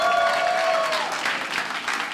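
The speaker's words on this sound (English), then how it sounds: "Where you at, Republicans? Clap." Republicans in a stand-up comedy audience clap together in a brisk burst of applause that holds strong, then thins out slightly, while a faint tone trails off early on.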